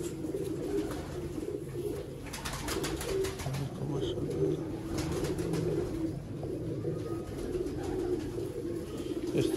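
Pigeons coo continuously at close range, soft, low, throaty calls overlapping in a busy loft-like chorus with faint background noise.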